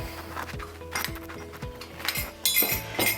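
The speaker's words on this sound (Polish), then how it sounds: "Wszystko mieszamy i z tego zrobi nam się taka granola" A spoon scrapes and clinks against a bowl while honey, oat flakes, walnuts and dried cranberries are stirred together for granola, a rhythmic run of close, light knocks and rubs.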